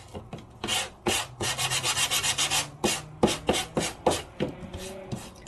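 Sandpaper rubbed by hand over an embossed color-core craft card stock to bring up the blue ink beneath, in a run of quick, close, rhythmic scrubbing strokes with short pauses between bursts.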